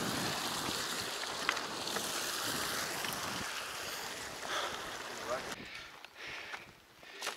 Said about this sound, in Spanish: It's a waterfall right in front of us.